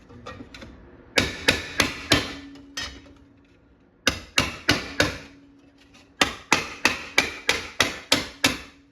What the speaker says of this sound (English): So I'm pulling up on this side right here as I'm hammering it down there.